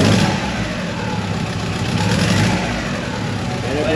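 A 3G Eclipse turbo engine runs loud and close after a head gasket swap, holding a steady idle with a rough, throbbing texture throughout; voices are faintly present.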